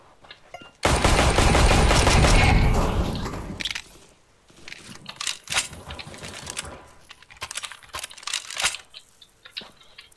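Automated turret gunfire in CS:GO Danger Zone, a loud sustained burst of rapid shots for about three seconds, then scattered softer shots and game noises.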